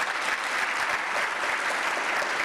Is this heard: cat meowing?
no